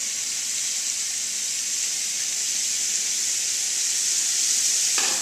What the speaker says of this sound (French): Donc on va mettre nos morceaux de collier à légèrement coloré.